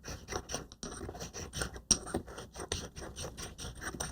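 Dried dye-producing insects being ground by hand, a quiet, rhythmic series of short gritty scrapes and crunches repeating roughly every few tenths of a second, close up and heard alone.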